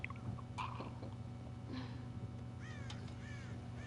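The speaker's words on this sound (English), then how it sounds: "God damn crows!" Crows caw around a corn silo in Red Dead Redemption, several harsh calls scattered across the moment, with chewing-like rustles and a low steady hum beneath.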